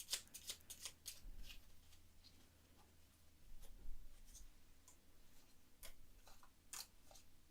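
Tarot cards are shuffled in quick bursts of soft riffling and flicking, quiet and close, with small taps in between.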